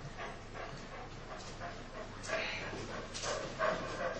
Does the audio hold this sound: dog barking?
yes